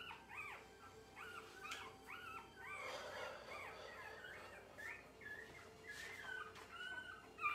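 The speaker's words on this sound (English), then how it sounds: "But I hear a lot of frantic whining still." Newborn puppies whine and yip in a rapid, high, wavering series while their mother dog nurses them, the cries close and continuous with no voices.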